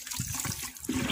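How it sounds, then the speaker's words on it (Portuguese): Water splashes and trickles over bare feet in a home vegetable garden, a steady close wash that swells louder near the end, with no talk. "Jogar uma água aqui nos meus pés."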